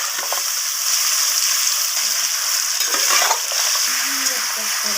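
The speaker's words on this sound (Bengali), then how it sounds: "ম্যারিনেট করে রাখা চিকেনগুলোকে দিয়ে দিলাম আমি তেলের মধ্যে একটু লালচে লালচে করে ভেজে নেব" Marinated chicken pieces drop into hot oil and fry with a loud, continuous, close-up sizzle, with faint stirring scrapes and no voices.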